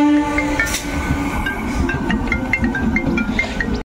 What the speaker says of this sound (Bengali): Sheoraphuli local Tarakeswar rail station থেকে ছেড়ে যাচ্ছে।